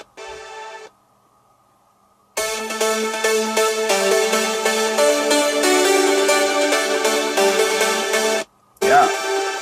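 Seven layered synth plugins sound together in a studio, a bright, dense stack of sustained chord tones that swells in after a short lone tone and a gap, then cuts off briefly before resuming.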